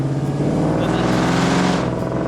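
A tow truck engine drones steadily while driving, a low, even hum held without a clear rise or fall.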